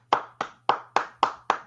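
Six sharp, evenly spaced hand claps ring out quickly and close by, with no voices.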